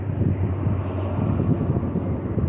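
Low, rumbling drone of a plane flying near the Air Force Academy in Colorado, loud and steady with wind buffeting the microphone.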